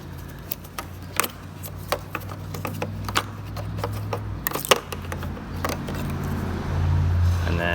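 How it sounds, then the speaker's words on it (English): Tail light wiring plugs on a Honda Odyssey are pushed and pulled free, giving a series of sharp plastic clicks and snaps up close over a low background hum. "we're just going to unplug these wiring plugs"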